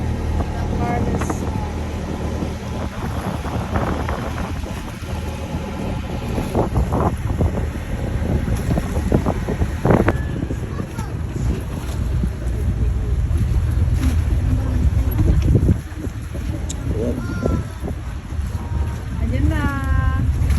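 Island-hopping boat motoring at sea off Carles, Iloilo toward the Gigantes Islands, a steady engine drone with heavy wind buffeting the microphone and water rushing, with occasional voices in the background.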